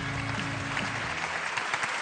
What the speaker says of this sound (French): je vous demande d'applaudir très fort Maryse Degboué